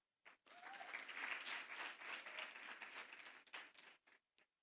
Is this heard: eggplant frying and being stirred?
no